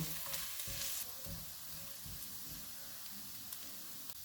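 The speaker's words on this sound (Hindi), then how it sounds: "ऑयल गर्म हो गया, इसमें चॉप किया हुआ 1 टीस्पून लहसुन डालेंगे। 1 टीस्पून चॉप की हुई अदरक। चूल्हे को कम रखेंगे, इनको 2 मिनट तक फ्राई करेंगे।" Chopped garlic and ginger fry in hot oil on low heat for a baby potato dish. A quiet, steady sizzle runs under several soft thuds and stirring knocks from the pan, with no talking.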